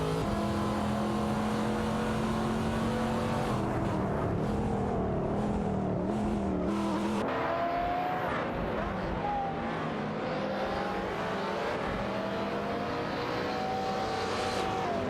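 Race cars in an AI racing game whine past with high, sustained engine tones that rise and fall in pitch as they overtake one another, several overlapping cars heard continuously.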